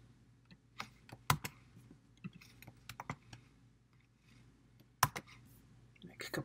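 Typing on a computer keyboard while searching for fonts in Adobe Creative Cloud: irregular bursts of sharp, close key clicks, with a few louder taps and pauses between them and no voices.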